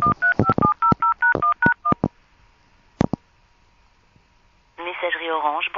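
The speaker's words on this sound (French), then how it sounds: "Je refais sonner le téléphone." A rapid run of touch-tone telephone dialing beeps, then a quiet pause broken by a couple of clicks, before a recorded voicemail greeting begins speaking.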